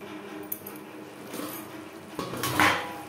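A metal lid set onto a pot of fish curry with potatoes on a kitchen stove, a short scrape and a bright clinking knock of metal on metal, close and fairly quiet.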